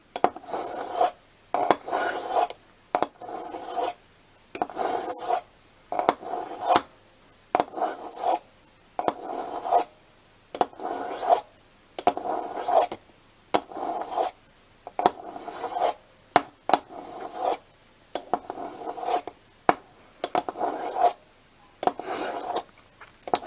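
A knife blade is drawn along the ceramic rods of a Lansky Blade Medic sharpener in repeated rasping strokes, each a short scrape followed by a brief pause, in a steady rhythm, close and clear with no voices.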